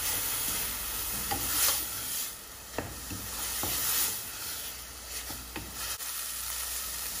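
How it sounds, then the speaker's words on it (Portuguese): Onion and garlic frying in a pan for pea soup, a steady close sizzle broken by scattered clicks and scrapes from stirring, with no talking. "Depois que a gente fritar bem essa cebola e o alho"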